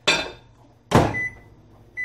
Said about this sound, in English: We'll put that in the microwave just for a little bit